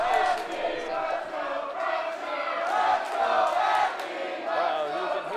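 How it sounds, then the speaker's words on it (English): Wrestling crowd at a small indie show in a theater chanting in unison, a loud rhythmic swell of many voices that rises and falls in repeated phrases throughout, with no separate speech. "you can hear the chants from the crowd"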